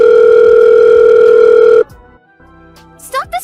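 Steady telephone dial tone, loud and continuous for almost two seconds, then cuts off into quiet line noise with faint voice-like sounds near the end.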